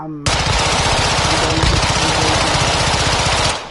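Sustained full-auto gunfire from a Modern Warfare II loadout weapon, a loud, rapid, unbroken stream of shots lasting a few seconds before it cuts off.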